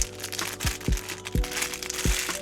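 Crinkly plastic bag rustling with a few sharper crackles and low thumps, close by, handled in short irregular bursts inside a car.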